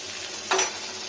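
Young neem leaves frying with eggplant in a hot pan, a short burst of sizzle and stirring rising briefly over a low steady hiss.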